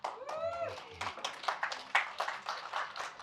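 Audience applause in a conference hall, a burst of clapping with a short whistle at the start, the claps fairly near and uneven.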